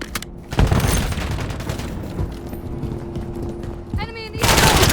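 Rapid bursts of automatic gunfire in a military shooter game, loud and close, with a sustained volley after an opening blast and a fresh burst at the end.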